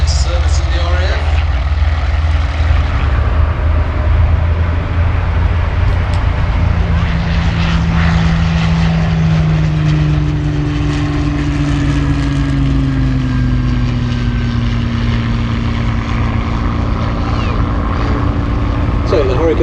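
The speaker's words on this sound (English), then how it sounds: "So the Hurricanes are airborne, which clears the runway for the big shot as the second starts to roll." A pair of Hawker Hurricane fighter planes takes off at the Sywell Airshow, their piston engines and propellers roaring loudly and steadily, with pitch gliding slowly as the aircraft accelerate and climb away.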